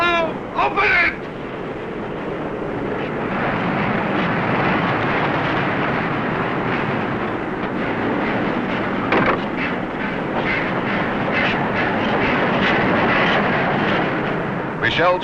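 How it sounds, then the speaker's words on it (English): Film pyrotechnic explosions tearing through railway marshalling yards, a sustained roaring, rumbling blast wash that stays loud and dense for the whole stretch, with sharper bursts near the start and middle. "the first of the 140 explosions chew up the marshalling yards"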